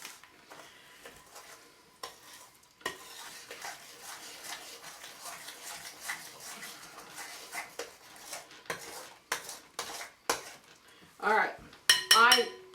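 A spoon stirring cookie dough in a bowl, soft irregular scraping and clinking of metal against the bowl, faint at first and then louder, with sharper knocks near the end.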